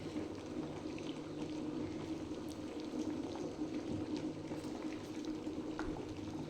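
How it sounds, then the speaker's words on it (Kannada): Sambar with potato and brinjal bubbling steadily in a pot, a continuous low simmering rumble with faint pops, no talking. "ಚೆನ್ನಾಗಿ ಕುದೀತಾ ಇದೆ."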